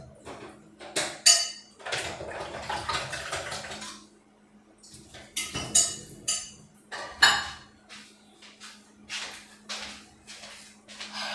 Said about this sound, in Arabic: وانا نغسل البطاطا تاعي